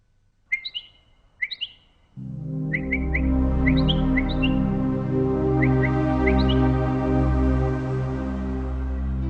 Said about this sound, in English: Birds communicate through cries, songs, and body language.